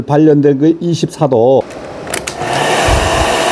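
A hair dryer, used to heat a twisted wire splice, is switched on after a few seconds of someone talking close by, then blows as a loud, steady rushing whoosh that fills the rest of the clip.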